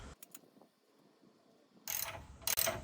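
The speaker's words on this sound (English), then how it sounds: "I'm tightening the nuts and bolts on the back two bushings" A ratchet tightens the nuts and bolts on the rear bushings of a control arm on a Dodge Grand Caravan, giving two loud bursts of clicking near the end after faint ticks and a quiet stretch.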